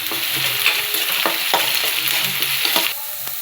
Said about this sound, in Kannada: ಇದಕ್ಕೆ ಸ್ವಲ್ಪ ಶುಂಠಿ ಬೆಳ್ಳುಳ್ಳಿ ಪೇಸ್ಟ್, ಸ್ವಲ್ಪ ಹಸಿ ವಾಸನೆ ಹೋಗೋವರೆಗೂ ಚೆನ್ನಾಗಿ ಫ್ರೈ ಮಾಡ್ಕೊಳ್ಳಿ.